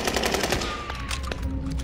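Rapid automatic gunfire rattles in a military video game, a dense burst of close shots running through most of the moment with no talking.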